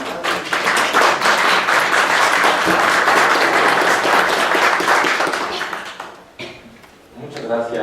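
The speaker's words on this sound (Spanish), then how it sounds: "Un aplauso" Audience applause at a law faculty lecture at UNAM, dense and steady for about six seconds before thinning out; a brief lull follows, then a short renewed burst of clapping at the end.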